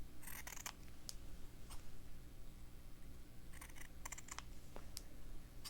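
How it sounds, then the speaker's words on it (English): Scissors snip through fabric while tree shapes are cut for a Christmas slow-stitching fabric book: several sparse, crisp snips in small clusters, quiet and close, over a faint background hiss. "I'll cut it in half so I can get 2 trees out of this."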